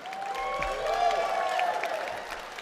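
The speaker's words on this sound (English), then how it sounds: "You can keep that round of applause going." Audience applause at an awards gala, soft and continuous beneath sustained music with a held melodic line, the crowd clapping in the background for a few seconds.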